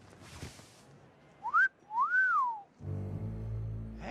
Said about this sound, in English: Hey now, that's a mean whistle.